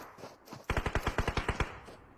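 Rapid automatic gunfire in a competitive esports match from the CC League Thailand finals, a tight burst of about nine evenly spaced loud shots after a brief lull, with no talking.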